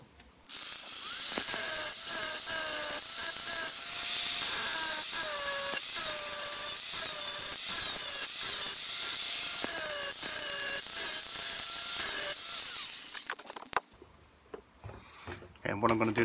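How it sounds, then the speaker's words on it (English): A grinder runs steadily and loudly for about thirteen seconds, grinding back welds on the metal frame of a Citroen C1 driver's seat, its pitch wavering as it presses into the work before it spins down and stops. "the first thing I'm going to do now is grind some of those welds back"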